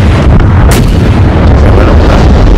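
Warship guns booming in the naval combat game World of Warships Blitz, a loud, continuous rumble of heavy cannon fire and blasts with no pauses and no voices.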